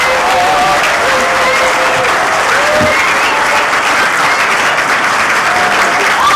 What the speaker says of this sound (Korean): 큰 박수와 함께